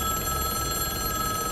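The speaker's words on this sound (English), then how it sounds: "he's 50 feet away when the phone rings" A telephone rings with a continuous bright metallic bell tone, loud and unbroken throughout, over dense background noise.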